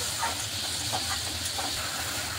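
Tomato, sugar and poppy seeds fry in a pan, a continuous even hissing sizzle with faint stirring scrapes, steady and close throughout.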